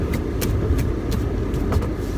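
A car maneuvers through a tight multi-point turn in a crowded parking lot at a trailhead for McAfee Knob, its engine running steadily and close by with faint intermittent creaks, with no talking.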